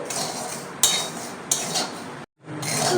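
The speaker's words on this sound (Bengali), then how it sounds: "শুকনো কড়াতে সুজিটা ভাজতে হবে" A metal spoon stirs and scrapes semolina being dry-roasted in a hot, empty kadai. Scratchy, gritty scraping comes close up in a few bursts, with sharp clinks of metal on metal, a brief silent gap, and no talking.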